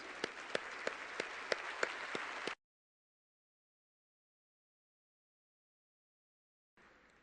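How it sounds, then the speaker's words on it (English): Audience applause at an Elton John AIDS Foundation gala, a dense steady roar of many hands with a few sharper claps standing out, cutting off abruptly after about two and a half seconds, then near silence before faint crowd noise returns. "Big round of applause, please."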